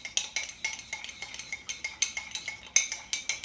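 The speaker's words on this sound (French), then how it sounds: "là, je vais juste mélanger correctement" A spoon stirs a homemade natural face mask mixture in a bowl, giving a steady series of light clinking scrapes roughly every quarter second, close and clear, with no talking.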